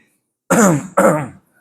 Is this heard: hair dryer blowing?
no